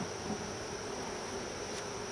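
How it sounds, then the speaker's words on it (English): Honey bees buzz steadily at an opened beehive in an apiary, a dense continuous drone close by with no voices. "And because I can't not screw with bees,"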